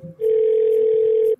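A steady telephone dial tone sounds loud and close for about a second while a call is being placed, preceded by a brief low murmur.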